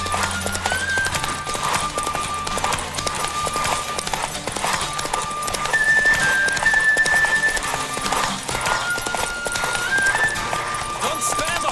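Hooves clip-clop steadily at a gallop as a horse races in The Witcher 3, with a rhythmic drumming beat running through the whole stretch. Game music and occasional voices sit alongside the hoofbeats.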